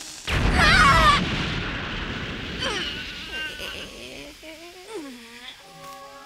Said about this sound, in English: The Bomb Bomb Ball is fussy and may explode before it's thrown, so extreme caution is strongly advised.